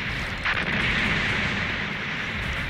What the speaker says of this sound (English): Take my missiles!